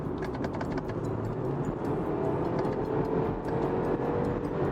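A BMW 120i M Sport's 2.0-litre engine drones above 6000 rpm, heard from inside the cabin, a steady loud hum with faint ticking overhead.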